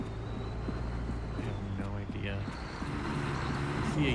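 A truck engine in the video game Fractured Lands rumbles steadily and loudly, a low droning hum with shifting pitch, under players talking.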